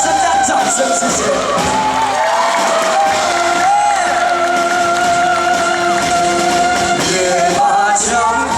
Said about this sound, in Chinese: 再给我们热血尖叫声加掌声